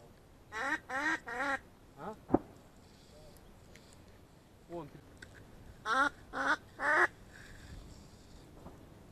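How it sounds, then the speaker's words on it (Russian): Wild ducks pass overhead at a lake during a hunt, giving loud nasal quacks in two clusters of three or four calls each, separated by quiet stretches with a voice briefly heard between them. "Вон утки летят."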